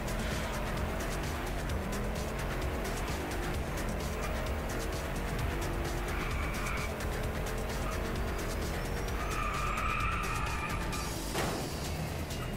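Car drifting with skidding tires in the racing game DriveClub VR, a steady loud engine roar and broad tire noise running throughout, with brief squealing tones rising near the end.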